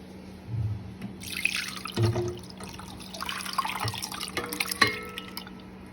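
Starch water from washed flour for laphing is poured through a strainer, giving intermittent splashing, dripping and trickling at close range.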